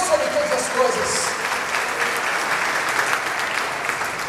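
A church congregation applauds steadily, a dense wash of many hands clapping together in a large room, continuous and fairly loud for several seconds.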